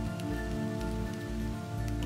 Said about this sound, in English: Finally, after months of drought, the first drops start falling.